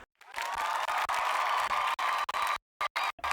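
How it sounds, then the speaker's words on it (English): Stock cheering-crowd sound effect from a mobile video-editing app: a dense burst of cheering and applause that cuts in and out in short bursts with silent gaps near the end. "For my case, I'll choose cheering,"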